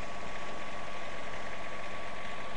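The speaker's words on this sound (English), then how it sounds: "Then, turn the key to start and hold until the engine starts." A Wacker light tower engine runs at a steady idle after starting, a loud continuous mechanical drone with a faint rattle and constant pitch throughout.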